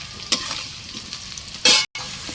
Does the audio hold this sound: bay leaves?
yes